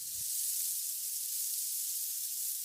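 A steady, bright hiss of sizzling runs throughout like a sound effect, opening and closing with a brief low thump.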